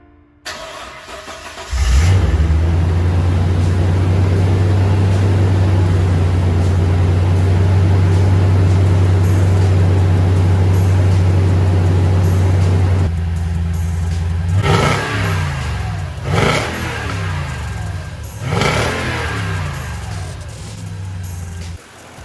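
A 5.7 liter V8 in a second-generation Toyota Tundra, freshly fitted with a new exhaust, cranks and fires, settles into a loud, steady idle, then is blipped through several sharp revs near the microphone.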